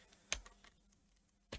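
A 3D-printed joystick mounted on a computer keyboard presses down on the keys, giving two sharp, quiet clicks about a second apart against near silence.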